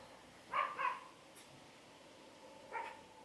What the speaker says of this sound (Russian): Что, гавкает что-то там.